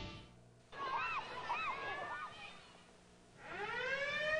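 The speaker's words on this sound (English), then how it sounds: "then why are these sirens here?" Wailing sirens in a 1986 television commercial opposing the Seabrook nuclear power plant, rising and falling tones that swell loudly, dip briefly and return with a rising sweep, sounding close and dominant.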